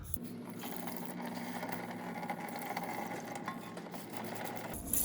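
Water from a hose rinsing spilled coolant off the engine bay of a 2007-2011 Toyota Camry in a garage, a steady broadband splashing hiss that runs throughout at moderate level.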